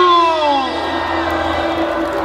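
A crowd at a Gwanghwamun rally against President Yoon's impeachment cheers loudly and close by, with long whooping voices that slide downward and settle into a sustained roar.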